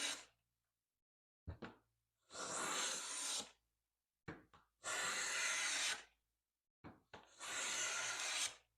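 No. 4 hand plane cutting wood, three separate rasping strokes each about a second and a half long, with knocks as the plane is set down and lifted between passes.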